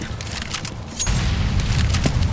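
In a tactical shooter game, a grenade detonates with a deep boom that swells into a sustained rumbling roar after a quieter stretch of faint clatter.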